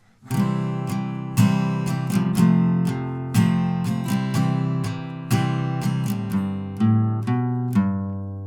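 Acoustic guitar chords strummed in a steady rhythm, each strum ringing out clearly and close, with a few bars of changing chords and no talking.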